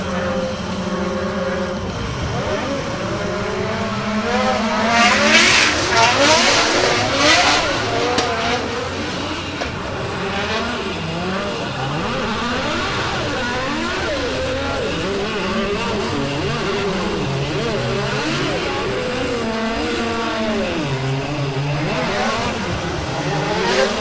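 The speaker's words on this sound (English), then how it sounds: "he didn't want to really crash right into the side of Matt Fountain's car" Drift cars in a British Drift Championship 2019 Pro-Am battle run, engines revving hard and wailing continuously with rising and falling pitch, loud and sustained, with faint commentary underneath.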